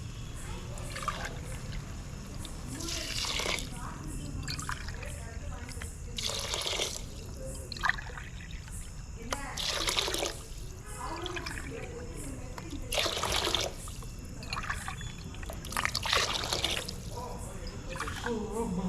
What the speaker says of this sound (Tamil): இப்போ ஒரு அஞ்சரை கப்பு தண்ணி ஊற்றிக்கலாம்